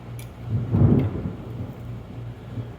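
Thunder rumbles during a storm, a low rolling boom that swells and then fades. Steady rain patters in the background.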